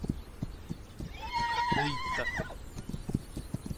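A horse gallops and neighs in This Land Is My Land, rhythmic hoofbeats thudding throughout with one loud, close whinny in the middle, while someone talks briefly.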